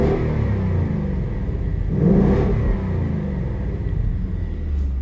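A Roush-tuned 2022 Ford Mustang GT V8 engine rumbles steadily at a low, fairly subdued level with the exhaust in touring mode, swelling briefly as it revs before settling back to a smooth idle.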